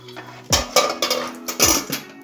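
A lid is set down on a cooking pot of stirred rice, giving a few close metallic clanks and knocks of pot and lid over about a second and a half, with no talking.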